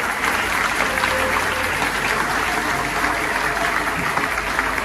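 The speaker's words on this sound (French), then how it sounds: "Vos acclamations, s'il vous plaît." A church congregation in Kinshasa breaks into sustained applause and cheering, a dense, even roar of clapping that holds steady throughout, loud and close with no clear voice on top.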